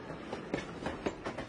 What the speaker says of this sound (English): He travels on an armored train.